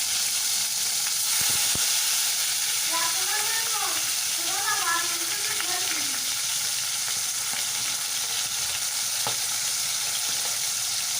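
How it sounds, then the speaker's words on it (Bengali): Tilapia fish frying in hot oil in a wok, a loud continuous hiss of sizzling oil; a brief warbling birdlike sound rises over it midway. "কড়াই কিছুটা তেল দিয়ে তেলটা গরম হয়ে গেলে মাছগুলো আমি একে একে ভেজে নেব।"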